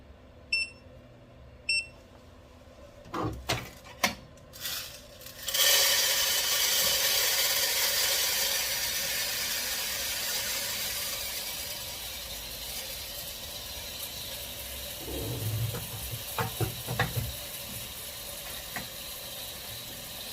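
Coffee beans pour into the drum of an Artisan M10 Sniper Pro roaster with a few clicks and knocks first, then tumble as a steady, dense rushing hiss that slowly eases, with scattered handling knocks near the end.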